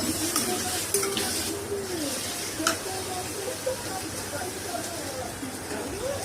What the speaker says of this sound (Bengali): এবার একটু ভালো করে নেড়ে চেড়ে কষিয়ে নেব